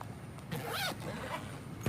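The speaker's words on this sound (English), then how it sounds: "And when you zip around," A zipper is pulled around a lockable storage ottoman in a dorm room, giving a close, scratchy zipping rasp of about a second, with brief handling noise before and after.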